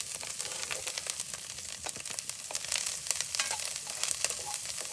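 Chopped parsley and green onions hit a pan of well-browned onions for seafood cornbread dressing, giving a loud, dense crackling sizzle with rapid pops all the way through and no voices.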